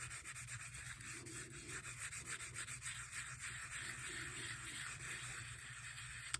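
A scrubby sponge rubs back and forth over embossed envelope paper in a steady, scratchy rhythm. The strokes are close and faint, with no voices.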